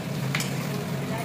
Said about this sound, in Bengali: এটা একটু ভাজা হোক